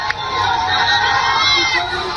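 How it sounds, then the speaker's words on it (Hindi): A mob of people pushing its way into a police station in Pakistan, a dense roar of shouting and crowd noise sustained loud and close throughout. "मॉब घुस गई, लोगों की भीड़ घुस गई और एक शख्स की जान ले ली।"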